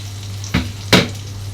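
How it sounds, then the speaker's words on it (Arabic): Tomatoes hit a hot pan of garlic sauce, giving two short loud sizzling bursts with stirring, over a steady low hum. "هنزل بقى بالطماطم بتاعتي اهي، اديها كده ايه تقليبه واسيبها بقى تتسبك كده."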